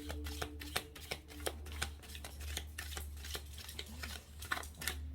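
Osho Zen tarot cards are shuffled and drawn by hand in a series of quick, crisp riffling and flicking bursts, close and quiet, with no talking.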